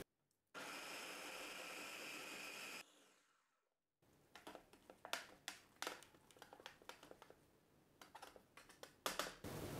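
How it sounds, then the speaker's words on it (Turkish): A food processor whirs loudly and steadily for about two seconds while blending chickpeas into crepe batter, then stops and is followed by a run of close clicks and taps. "Makine artık içinde kırıntılar olan bir şey değil de sanki böyle pürüzsüz bir şey varmış gibi dönmeye başlıyor."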